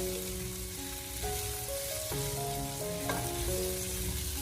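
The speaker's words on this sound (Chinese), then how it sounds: "我们需要给它多翻炒一小会，一定要将它们炒香" Chicken breast stir-fried in a wok: a steady, close sizzle with occasional scraping from the tossing, under gentle background music and with no talking.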